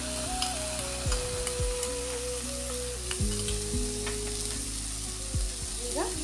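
Roasted paste and paneer fry in a pan with a soft, steady sizzle and occasional scraping stirs, while a low mechanical hum with shifting tones runs underneath throughout.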